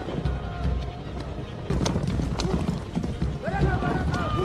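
Horses gallop across grassland in a Mongol-era film scene, a steady drumming clip-clop of hooves heard beneath a narrating voice, with a louder rush of hoofbeats partway through.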